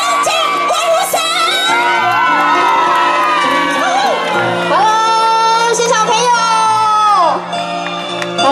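A crowd at an outdoor concert in Xinshe, Taichung cheers loudly with sustained whoops and shouting voices. The cheering stays loud and dense throughout and rises in a long, held swell before it eases off.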